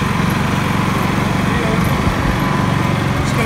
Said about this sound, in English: the generator should rev up